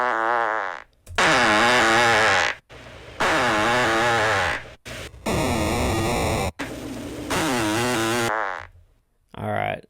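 A series of loud, drawn-out flatulent bursts with buzzy, wobbling tones, separated by brief silences, a mix of long blasts and shorter sputters.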